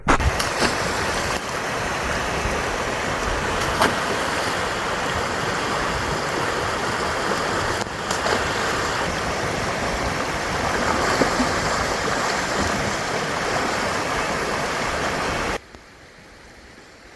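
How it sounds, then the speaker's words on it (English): Clear Creek, a small year-round creek in California, flows with a steady, broad rushing of water heard up close and alone for the whole stretch before cutting off abruptly. "this little Clear Creek's a year-round creek, but it's not a rager"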